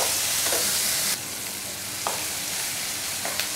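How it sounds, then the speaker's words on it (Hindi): Tomatoes frying in oil in a pan for vegetable dal, a strong, steady hiss of sizzling with a few soft stirring scrapes, loud and close, without voices. "थोड़ी देर के लिए हम ये 2 मिनट के लिए हम ये टमाटर को भून लेते हैं तेल में"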